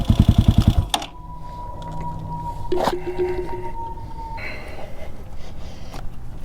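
A CSC SG250 motorcycle engine with the choke on chugs in a rapid, loud, pulsing run for about a second, then cuts out, leaving a quieter mechanical hum with a few faint knocks.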